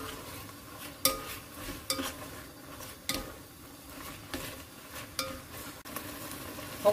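Seaweed and beef stir-fried in a pot for seaweed mushroom soup with perilla powder, with soft sizzling and a utensil scraping and clinking against the pot in irregular stirs, close but quiet.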